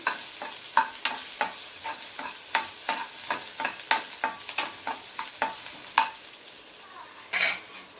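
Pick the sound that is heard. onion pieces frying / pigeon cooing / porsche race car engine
onion pieces frying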